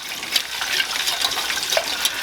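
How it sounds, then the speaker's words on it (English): Milk is whisked into a sauce base in a pan for a cheddar cheese mustard sauce, making quick, rhythmic liquid swishing and sloshing up close with no talking. "Whisk this together really nice"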